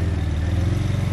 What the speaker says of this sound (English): You hear the turbos though at the end?